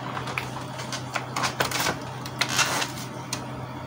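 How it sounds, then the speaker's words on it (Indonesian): An Epson L805 inkjet printer with a paper-feed fault starting a print job makes a run of sharp, irregular mechanical clicks and clacks over a low steady hum, close and alone. "Kita coba ya, nyalakan printernya."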